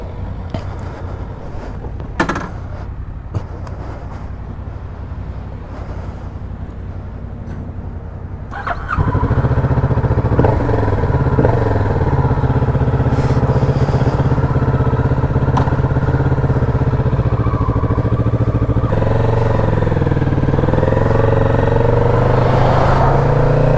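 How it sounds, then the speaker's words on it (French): Kawasaki Z650 RS twin-cylinder motorcycle on its stock exhaust, quiet wind-buffeted idle before the engine fires up around nine seconds in, then a steady, loud, low parallel-twin drone with slight revving. "Avec mon pot d'origine, forcément en bicylindre c'est pas fou."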